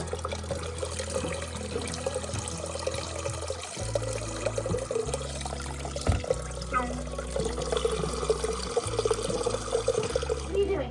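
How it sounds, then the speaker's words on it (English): Water draining from an old hot water heater in an attic, a steady low gurgling and trickling flow with uneven pulsing, fairly quiet, with no clear talk. "It's draining the old hot water heater."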